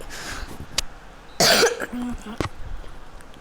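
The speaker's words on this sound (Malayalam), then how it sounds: "ഒന്ന് ചുമച്ചിട്ടുണ്ട് കേട്ടോ" A single harsh cough bursts out close to the listener, with a couple of shorter throat sounds around it against a quiet background.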